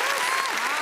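Crowd at a birthday celebration night in L.A. bursting into steady, dense applause with cheering voices mixed in, loud and continuous throughout the short burst.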